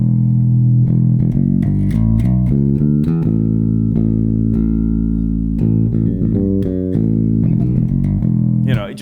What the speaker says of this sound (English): if we played the whole thing legato, so running into each other, it would sound like this.